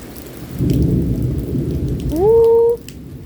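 A thunderstorm with strong winds and rain: a deep rolling rumble of thunder builds over steady rain, then a short rising tonal whine sounds near the end before fading.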